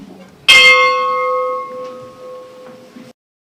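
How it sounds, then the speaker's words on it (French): A ship's bell of the aviso Commandant Blaison is struck once in honour of the Surcouf submarine sailors, ringing loud and close, then sustaining a long, slowly fading tone before cutting off. "La cloche qui a servi à rendre les honneurs aux 130 marins"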